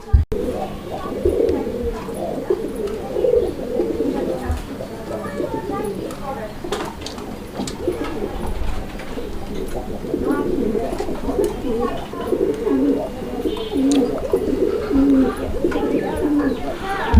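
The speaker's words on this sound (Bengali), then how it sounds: "এই জোড়াটার ডাকটাও আমরা আপনাদেরকে দেখাই দিলাম খুব সুন্দর করে ডাকে এই কবুতরের জোড়াটাও" A pair of Raj-Golla pigeons at a farm coos steadily and up close across the whole stretch, their repeated low throaty calls carrying on through the background noise, while someone talks over them.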